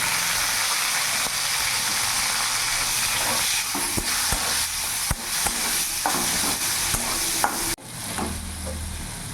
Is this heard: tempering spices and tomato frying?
yes